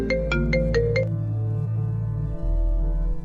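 A telephone rings inside a car with a bright electronic ringtone: a rapid burst of repeated chirping pulses, then a sustained warbling tone, fairly quiet over a steady low rumble.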